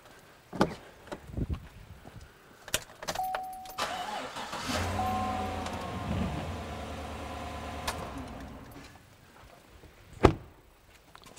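A car engine cranks briefly and catches using a portable jump starter, then runs for a few seconds at a steady idle before shutting down, preceded by clicks and handling noises.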